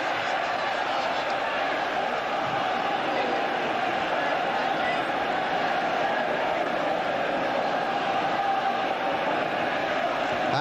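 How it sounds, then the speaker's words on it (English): A football crowd at the 1987 Sunderland versus Barnsley league match gives off a loud, steady buzz of massed voices that hums on without a break for the whole stretch. "And that's got the crowd buzzing."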